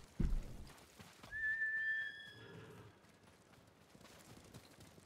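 A horse whinnies once amid a samurai troop mounting up for battle in the game Ghost of Tsushima, preceded by a thump and followed by faint, soft hoof and movement sounds in a quiet scene.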